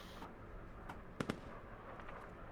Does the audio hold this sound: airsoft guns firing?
yes